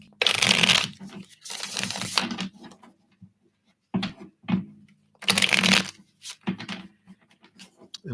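Chinese tarot cards being shuffled close up, with several bursts of riffling and flicking separated by short pauses, loud and alone with no talk.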